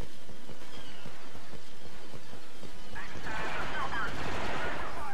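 Close quarters rifle firing in Star Wars Battlefront 2 (Assault on Theed), rapid repeated shots in a busy battle mix, with a voice talking over the gunfire.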